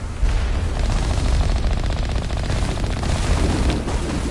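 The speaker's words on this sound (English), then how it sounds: "Oh wait, shoot the dropship!" Sustained automatic gunfire pours into a dropship during a Mass Effect ground battle against Geth, rapid dense bursts with low booming impacts running loud and continuous throughout.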